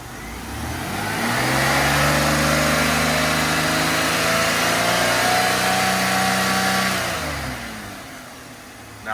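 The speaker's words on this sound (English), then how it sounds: "now we're going to increase engine RPM" A car engine is revved up from idle in a lab setting, its pitch rising steadily, holding high for several seconds, then falling back as the RPM drops, loud and close with no talking.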